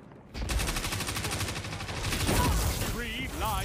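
Rapid, dense gunfire fills a Destiny PvP match, with close repeated shots layered with game effects and sweeping tonal sounds, while a voice is heard faintly beneath.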